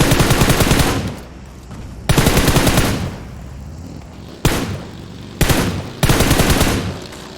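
Loud bursts of automatic gunfire in PUBG Mobile, five rapid strings of shots separated by short pauses, close and sharp, with no talking.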